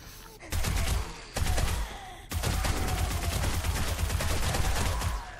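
Loud, sustained gunfire in the zombie survival game 7 Days to Die, in two short bursts followed by a long continuous volley, close and dense.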